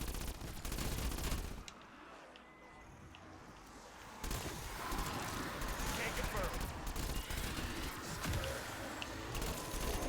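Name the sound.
PPSh submachine gun firing at zombies, Cold War Zombies video game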